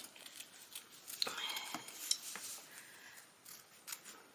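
Scissors snip through a reusable shopping bag to cut out a traced circle for a hat. Quiet, close crisp cuts come in a few irregular bursts with rustling between them.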